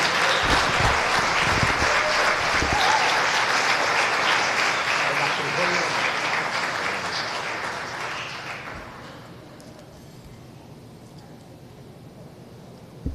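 A church congregation claps loudly and steadily for a preacher, sustained applause filling the room before fading out to near quiet in the last few seconds.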